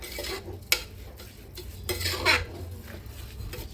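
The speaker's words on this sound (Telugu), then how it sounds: "బియ్యం వేసుకున్న తర్వాత కొంచెం మంట మీడియం ఫ్లేమ్లో పెట్టేసుకొని మళ్ళీ ఒకసారి ఒక్క నిమిషం వరకు బియ్యం అయితే వేపుకోండి" Rice being roasted and stirred over medium flame in a pressure cooker, heard as irregular metallic scrapes and clinks of a spoon against the pot, with a faint sizzle beneath.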